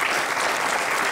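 An audience at a Canary Islands folk music show claps in a dense, loud, even burst of applause that lasts about a second, with no voices over it.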